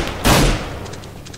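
A single loud, close gunshot burst in Minecraft Minestrike, a sharp blast followed by a fading tail and a few faint clicks.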